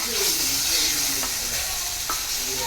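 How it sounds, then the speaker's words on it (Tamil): Chopped tomatoes sauté in hot oil in a pan for a noodle dish, a steady bright sizzle and hiss with a couple of soft stirring scrapes, close and even throughout. "தக்காளி தக்காளி வந்து போட்டு வதக்கிடுவோம் நல்லா"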